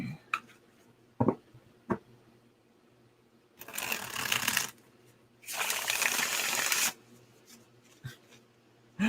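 Tarot cards are shuffled up close in two quick, papery bursts, the second longer and fuller, with a few soft taps and handling sounds between them.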